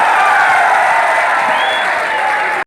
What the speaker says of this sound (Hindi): तालियों की गड़गड़ाहट से धन्यवाद दिया जाए